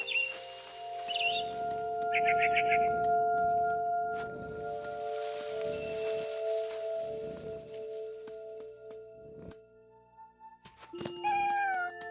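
A cat in What Remains of Edith Finch meows amid sustained tonal game music and low rumbling ambience, with a sharper cluster of cries near the end.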